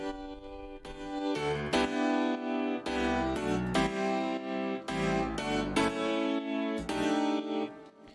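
A Fender Rhodes, an upright piano and a small Easy Keys upright piano play the same chords in layers, giving a thick, bright, shimmering keyboard sound in a steady rhythmic pattern, close and without voices.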